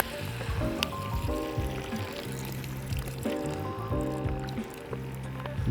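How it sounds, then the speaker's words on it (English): Chicken stock pours steadily into a pan of curry chicken, a soft liquid stream under continuous background music. "So chicken stock in."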